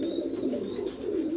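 Pigeons coo softly on a rooftop in Larkana, Sindh, a steady low murmuring of several birds close by, with no talking.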